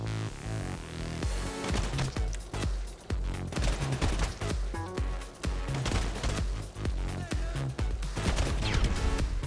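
Enemy gunfire in GTA V Online, dense bursts of automatic and single shots crackling continuously at varying distances over a busy mix of game sound.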